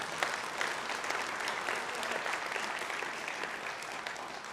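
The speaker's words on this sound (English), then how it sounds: "you can applaud that if you want." A conference audience at a Conservative Party gathering applauds steadily throughout, a dense wash of many hands clapping at even loudness from start to finish.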